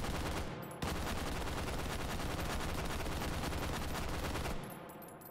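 An H&K gun firing full auto in the VR game Hot Dogs, Horseshoes & Hand Grenades, one continuous loud burst of rapid gunfire lasting nearly four seconds, dense and distorted, with no talking.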